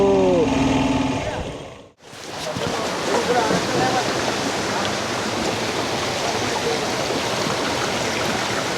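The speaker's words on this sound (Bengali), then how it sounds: "ঝর্নার জল পড়ছে" A hillside waterfall pours down in a broad, steady rush of falling water that fills the scene and stays constant after a brief burst of voices and a quick pause at the start.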